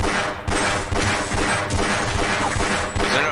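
Rapid, loud bursts of video game gunfire crackle almost continuously, shot after shot in a dense close barrage with brief gaps.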